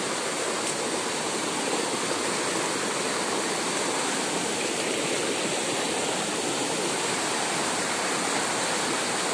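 Floodwater behind a house rushes strongly in a loud, unbroken roar like a torrent, steady and close throughout with no voices.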